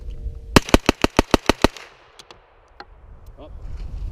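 A PSA AKV 9mm carbine fired at a range, a loud rapid string of about eight evenly spaced close shots, then quieter scattered distant reports and clatter.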